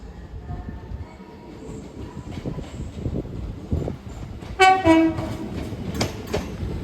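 LNER class 801 train arriving at Newcastle sounds a loud two-note horn tone over the rumble of the station, following a steady background of rail noise.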